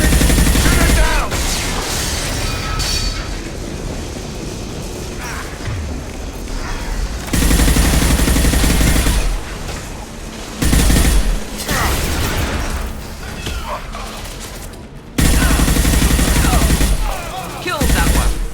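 Heavy gunfire rattles through a Mass Effect 2 firefight as shots are aimed at a loose fuel tank, with loud bursts and booms starting and stopping in several distinct volleys and voices heard among them.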